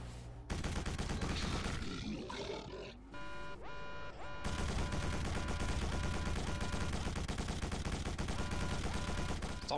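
Gunfire aimed at the player in the shooter Quake 4, a dense, loud stream of shots over a busy game mix with a short lull near the middle, then more sustained firing and rumble.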